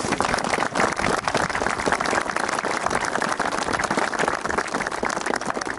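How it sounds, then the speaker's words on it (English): Dense, continuous round of applause and clapping for young footballers at a coaching session, loud and close without a break, with no talking over it. "they deserve a huge round of applause for that"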